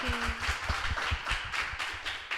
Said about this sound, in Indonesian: Saya minta tepuk tangan meriah buat Mara